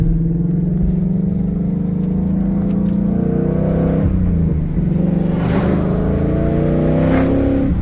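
Loud, continuous engine roar from a powerful Whipple-supercharged race truck, revving up and down with rising and falling pitch, close by and without voices.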